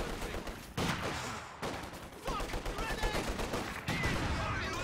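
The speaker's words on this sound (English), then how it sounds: "These Maxims are doing a pretty good job stopping him as he comes out of the base." Maxim machine guns in Company of Heroes 2 rattle in repeated bursts, with rapid overlapping shots and pauses, set against distant battle noise at a moderate level.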